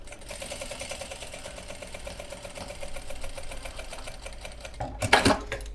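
A sewing machine runs a straight stitch on fabric with a fast, steady mechanical chatter, close and clear, ending with a short clunk and rattle.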